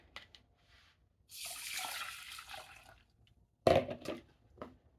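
Water pours steadily into a pot of rice for a couple of seconds, followed by a sharp clank and a few softer knocks.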